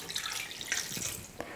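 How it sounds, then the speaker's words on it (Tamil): A small amount of water is poured into a pressure cooker holding mutton, a short bright splashing trickle lasting barely over a second, close and fairly loud. "மட்டன் வேகிறதுக்காக மட்டும் தண்ணி கொஞ்சமாக சேர்த்துக்கிறேன்."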